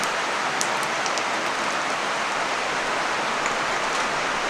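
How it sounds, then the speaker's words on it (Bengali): Whole cumin, bay leaves and dried chillies sizzle in hot oil in a kadai, a dense, even hiss held close and steady throughout with a few faint clinks. "গোটা জিরে দিয়ে দিলাম তেজপাতা দুটো শুকনো লঙ্কা"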